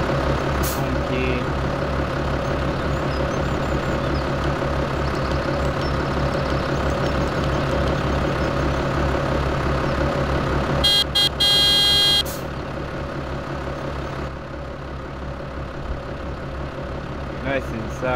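A Toyota Hilux engine idles in Farming Simulator 2017, a steady low droning rumble that holds for the whole stretch, with a brief higher whine partway through.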